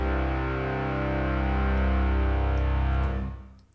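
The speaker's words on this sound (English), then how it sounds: "I'm just going to try my vocal plate, because I know that sounds good." A sustained tone washed in a smooth, dense vocal plate reverb holds steady, then fades away with a lingering tail.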